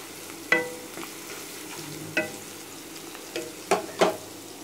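Ginger garlic paste stir-frying in a pan for gobi manchurian, a soft sizzle under a few sharp spatula scrapes and taps, quiet and close.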